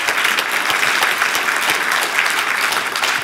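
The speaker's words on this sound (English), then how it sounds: "give you another round of applause for that." Dense, steady applause from a large conference audience at the OpenDaylight Summit 2014, with many overlapping claps and no talk.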